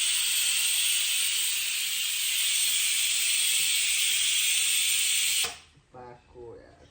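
Water boiling hard in a pot for cooking fish, a loud, steady steam-like hiss close by that cuts off abruptly, after which a voice speaks briefly.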